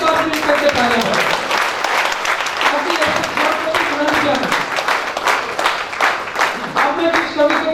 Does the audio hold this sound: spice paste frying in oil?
no